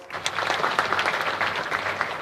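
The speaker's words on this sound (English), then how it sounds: "Could we again give them a round of applause?" Steady applause from a conference audience at an investment event in Nyanza, dense and sustained for a couple of seconds, with a few faint voices buried in the clapping.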